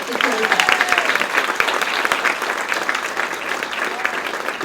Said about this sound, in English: I'd like a round of applause for all those women here today